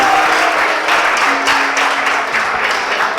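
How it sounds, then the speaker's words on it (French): Audience at a constitutive general assembly of an association applauds its treasurer, a dense, steady wash of many hands clapping throughout, loud and close, with a faint held tone underneath. "Si vous applaudissez."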